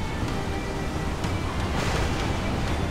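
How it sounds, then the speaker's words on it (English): A violent storm at sea in Assassin's Creed 4 Black Flag, with big waves crashing around a ship, roars as a dense, steady wash of surf and wind noise. "I'm in a huge storm here with these big waves."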